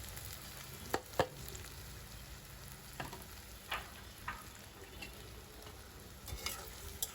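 Chopped onion frying in oil for a beef liver curry gives a faint, steady sizzle, broken by a few sharp clicks and taps of stirring.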